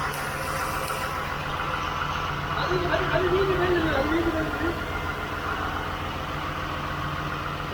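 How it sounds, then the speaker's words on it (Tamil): A boat's engine runs in its engine room at sea, a steady, loud, droning rumble with no change in level, while someone speaks briefly over it. "பாருங்க போட்டோட இன்ஜின்"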